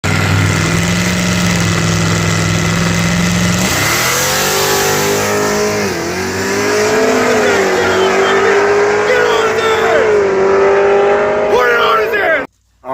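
A turbocharged fifth-generation race car makes a pass on another, naturally aspirated car at a drag race in Louisiana. Loud, close engine roar climbs steadily in pitch through repeated revving, then cuts off abruptly at the end.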